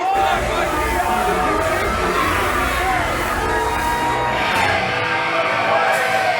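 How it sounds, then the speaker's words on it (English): A wrestling crowd cheers and chatters continuously at a live event, a loud dense roar of many voices with whoops rising above it throughout. "I think they're cheering for Mikey B."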